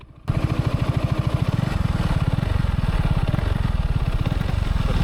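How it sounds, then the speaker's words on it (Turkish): A 2024 Yamaha X-Max 250 Tech Max scooter engine starts abruptly and runs with a rapid, steady exhaust putter, close and loud, with a slightly rough idle throughout. "Şöyle egzozu da ufaktan bir sesi göstereyim."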